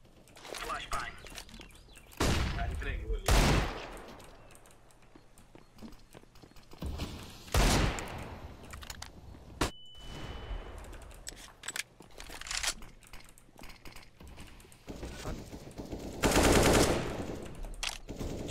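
Gunfire in the video game CS:GO, with several loud, sharp bursts of automatic fire spread across the stretch between quieter footsteps and movement, while players talk over it.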